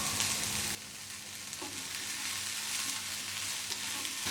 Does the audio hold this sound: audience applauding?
no